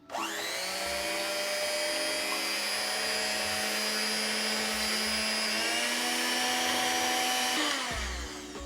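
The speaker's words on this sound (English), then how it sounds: "we're going to beat our egg whites until they're really nice and fluffy" An electric hand mixer beats egg whites for a flourless olive oil chocolate cake, a steady, loud motor whine that holds for about seven seconds before cutting off.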